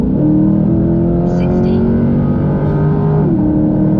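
A sports car with a ported intake revs hard, its loud, sustained engine roar rising and holding before easing slightly near the end, with brief chatter in the background.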